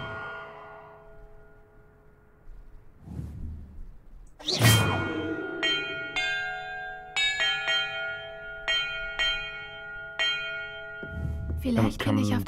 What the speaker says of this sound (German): in welcher Reihenfolge ich die Glocken läuten muss.